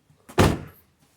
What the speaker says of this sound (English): that really made a huge improvement on these doors closing now.